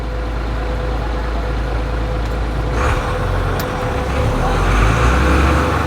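Heard from the cab, a Ford Cargo 0811 truck pulls away in low first gear, its diesel a deep, steady drone that builds slightly, with a brief knock midway.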